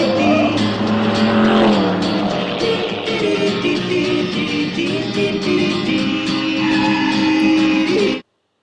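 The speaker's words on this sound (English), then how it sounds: "Benjamin often displays reckless behavior, driving his Alfa Romeo around dangerously." An Alfa Romeo car driven recklessly in a film scene, its engine roaring loud and steady with a rising whine and possible tire squeal, continuous until an abrupt cutoff.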